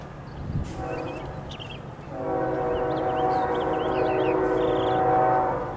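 A loud CSX freight train horn blares in sustained, steady blasts, rising after a brief pause and holding strong over the low rumble of the passing manifest freight train.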